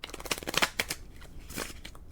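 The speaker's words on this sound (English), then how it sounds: "That sounded like a very professional shuffle." A deck of playing cards is shuffled by hand during a close-up magic act on a cruise ship, a quick series of crisp riffling bursts at close range, with no talk.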